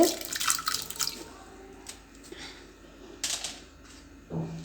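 Pieces of elephant foot yam dropped into water before boiling, giving a few soft splashes and wet plops with light clatter, fairly quiet and close, no talk over them.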